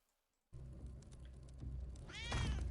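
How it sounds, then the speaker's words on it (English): A cat meows a couple of times close by, the second call louder and rising, over a low background hum with no speech. "you can even hear the cats meow"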